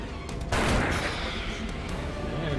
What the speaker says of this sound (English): And pistol shot the thing in the back